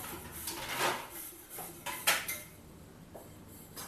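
Dishes, plates and cutlery being handled in a home kitchen, several clattering clinks and scrapes in irregular bursts, one sharp metallic clink standing out, fairly faint and close.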